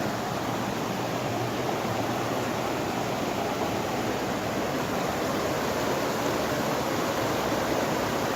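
A Jamaican river rushes past in a broad, steady roar of flowing water, loud and close, with no pauses or talk, an unbroken churning hiss from start to finish.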